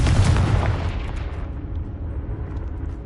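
Fiery blast spells booming in a Hogwarts Legacy duel, a dense loud roar of explosions at first that settles into a steady rumbling wash, with no talk.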